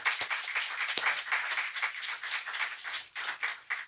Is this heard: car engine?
no